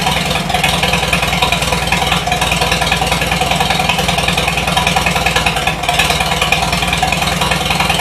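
A 1953 Farmall Super H tractor engine runs steadily at a loud, even idle close by, with a constant low throb and no talk throughout.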